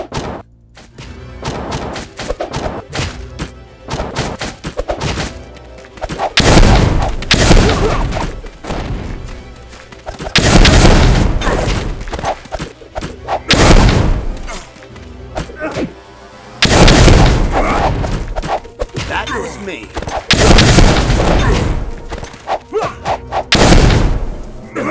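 Spark spell explosions in a video game: loud, repeated booming blasts and crashing thuds burst in several heavy bursts across the stretch, with dense noisy impacts between them.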